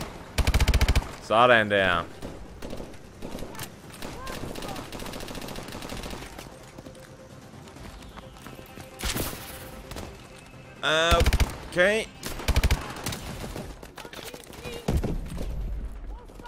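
Gunfire in the video game Call of Duty Advanced Warfare: quick loud bursts and single shots come in clusters with quieter gaps between them, while a player talks over parts of it.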